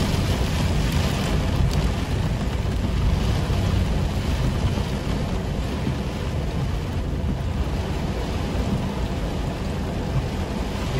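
Hailstones and heavy rain pour down during a strong storm in Nova Petrópolis, Rio Grande do Sul, Brazil, a loud, dense, continuous drumming close by with no voices.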